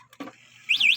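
A vehicle's anti-theft alarm sounds after a brief click, its high, warbling electronic siren tone rising and falling in quick sweeps toward the end.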